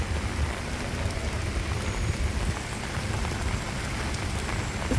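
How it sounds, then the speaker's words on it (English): Steady outdoor rain pours in a dense, unbroken hiss of drops striking surfaces, loud and close, with no voices. "Steady rain, rain, rain."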